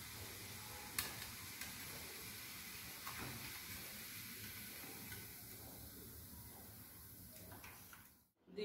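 Omapodi, a besan sev, frying in hot oil, with a steady, close sizzle and hiss that holds for several seconds. Faint clicks and stirring come through before the sound drops away at the end.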